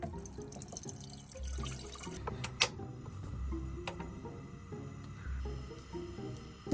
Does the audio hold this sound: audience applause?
no